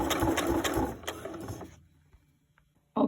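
A sewing machine stitches a jeans hem in a fast, loud mechanical chatter for about two seconds, then trails off into near silence before a short burst of running resumes at the end.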